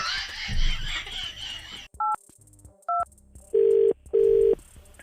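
Phone call abruptly cut off: after a burst of noisy background chatter, the line goes quiet, then short electronic beeps sound twice, followed by two longer steady disconnect tones, close and clear.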